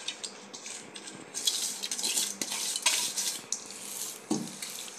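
Fried onions are mixed into marinated chicken in a metal bowl, making wet squelching and stirring sounds with irregular clinks and scrapes of a utensil against the bowl.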